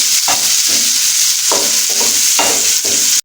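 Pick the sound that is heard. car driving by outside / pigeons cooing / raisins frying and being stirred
raisins frying and being stirred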